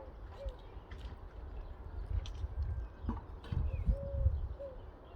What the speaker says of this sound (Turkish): kuş seslerinin altında huzur veriyor kuş sesleri insanı